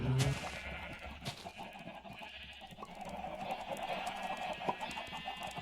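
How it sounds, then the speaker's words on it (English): Farm animals in a Minecraft game, including pigs, cows, sheep and chickens, giving faint bleats and clucks against soft ambient game sounds. "Got my pigs, cows,"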